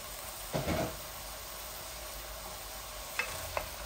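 Cauliflower, carrot and garlic fry in a pan, giving a steady low sizzle. A brief stirring scrape comes near the start and two sharp utensil taps come near the end. No one speaks.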